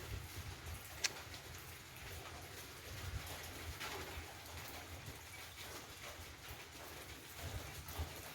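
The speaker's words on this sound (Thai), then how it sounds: "พายุเข้าครับ" Rain and wind from Typhoon Noul make a faint, steady wash of noise outdoors, with a few soft knocks and drips scattered through it.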